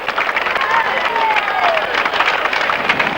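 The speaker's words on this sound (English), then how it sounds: "The crowds go wild as Erin Baker runs into sporting history." Crowd cheering and applauding at a triathlon finish line at the 1985 Forster Ironman, a continuous roar of clapping and voices, with a commentator speaking over it.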